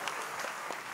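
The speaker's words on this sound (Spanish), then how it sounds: "¡El aplauso para Leti y para Diego, por favor!" Audience applause for two guests at a Quito cabaret show, a steady dense patter of many hands clapping close by, with no voices over it.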